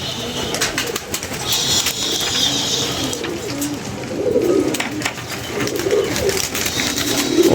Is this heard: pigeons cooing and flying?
yes